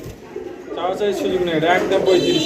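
Soft cooing of blue white bar swallow pigeons rises and falls close by, mixed with a voice talking over them.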